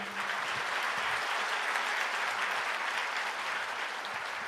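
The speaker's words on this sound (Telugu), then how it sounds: "అందుకు కొట్టండి చప్పట్లు." An audience at a church ministry sermon claps together in a steady, dense round of applause lasting several seconds, with no talking over it.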